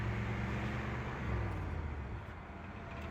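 A 1964 Mercury Marauder with its numbers-matching Z-code engine, heard from inside while driving through the gears, a steady low, muffled engine drone with road noise that eases slightly toward the end.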